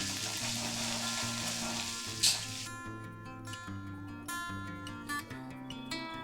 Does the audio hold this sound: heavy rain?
no